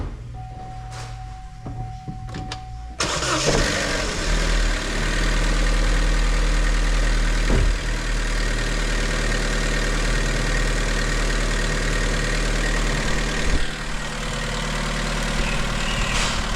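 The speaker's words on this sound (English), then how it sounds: "let's get on the key and give it a big start." A Vauxhall Corsa E 1.4 petrol engine (LDD/B14XEL) with a camshaft/crankshaft correlation fault cranks briefly after a quiet start, then catches and settles into a loud, steady idle close by with no talking.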